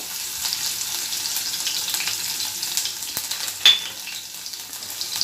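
Crushed garlic drops into hot oil already crackling with cumin and curry leaves, giving a continuous close sizzle with a soft clink partway through, no voices.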